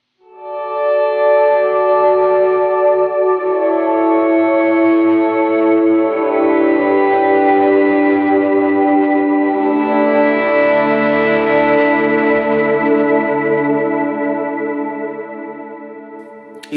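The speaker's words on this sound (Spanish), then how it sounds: "pero me inventé este efecto que es como un auto swell" Electric guitar run through an auto swell effect on an Eventide H9 pedal, a single sustained chord fading in smoothly and then ringing on with echo and chorus shimmer before tailing off, alone with no talking.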